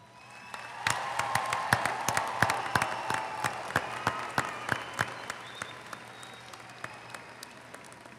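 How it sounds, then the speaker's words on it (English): Graduation ceremony audience applauding the graduates at a spring commencement: a large hall of sustained clapping with sharp individual claps standing out, swelling early then gradually thinning and fading, with no speech over it. "One more time, join me to applaud and celebrate the achievement of these graduates."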